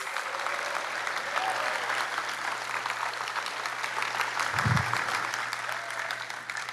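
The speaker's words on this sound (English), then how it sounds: "Another round of applause for our MC, Dave Zarin, please." A crowd at the 2024 National Science Bowl Finals closing ceremony applauds the MC, steady clapping from a large room that continues through the whole stretch with a brief low thump near the end.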